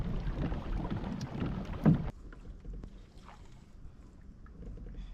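A kayak with no trolling motor or battery is paddled across water, with splashing strokes and wind buffeting the microphone for about two seconds, then quieter drips and gentle water movement.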